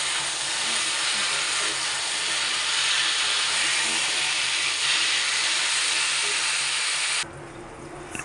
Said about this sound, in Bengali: ঝোলটা, এখন ফুটে উঠেছে